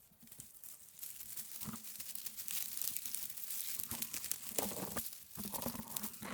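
Shrub leaves handled outdoors in nature for ASMR, giving continuous close crinkling and crunchy rustling with small tearing snaps, steady and fairly soft throughout.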